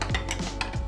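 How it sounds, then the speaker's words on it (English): Spoon scraping and clinking against a bowl while a sauce of olive oil and Greek Freak seasoning is stirred, a few quick close strokes in a short burst with no voices. "stir that"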